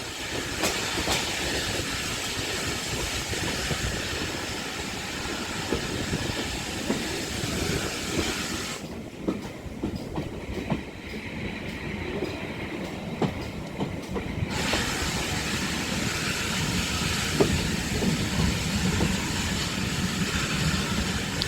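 A West Somerset Railway train arrives at Dunster, a steady, close rumble of wheels on track with rhythmic clicks that keep on for about twenty seconds, and a brief quieter stretch midway.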